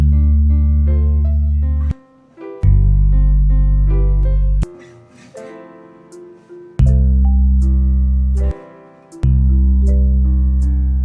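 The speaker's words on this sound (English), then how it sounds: "we just play the bass note of the song" Deep sustained bass notes follow a song's chord changes, with higher melodic notes above and short gaps between phrases, loud and close with no talking.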